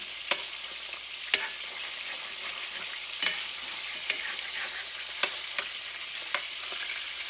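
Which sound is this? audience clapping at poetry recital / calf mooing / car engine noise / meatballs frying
meatballs frying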